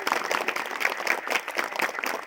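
A church congregation at a feast-day flag-hoisting Mass claps in praise of Jesus, a steady patter of hands filling the hall at moderate volume, without talk.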